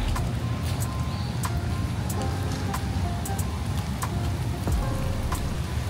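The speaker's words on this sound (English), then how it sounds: "And it's raining, y'all." Steady rain falling outdoors on a sidewalk in Columbia, SC, a dense continuous patter with scattered sharper drops, close and fairly loud, with a faint hint of passing traffic and no talking.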